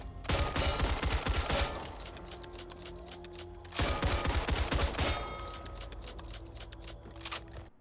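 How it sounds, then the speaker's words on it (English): The Super 90 shotgun in the game Back 4 Blood fires two quick bursts of rapid blasts, each followed by mechanical clacks of reloading and handling, crisp and close with no voices. "we also have access to the Super 90, which is a very fast firing shotgun"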